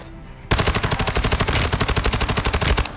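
Automatic gunfire in Call of Duty Warzone 2 on the Ashika Island map bursts in after a short quiet lead-in, then rattles on as a fast, loud, steady string of shots with no voices.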